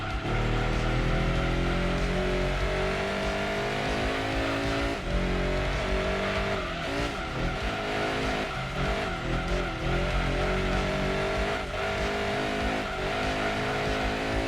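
A race car in Gran Turismo 2 on PlayStation roars continuously during an endurance race at Apricot Hill, engine revving and shifting with bursts of tire squeal as the unstable car slides through corners.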